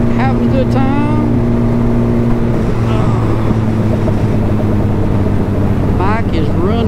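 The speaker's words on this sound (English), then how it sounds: "Bike is running good." Turbocharged Suzuki Hayabusa motorcycle ridden on a daily commute, its engine a loud steady drone with heavy wind buffeting, while someone talks over it.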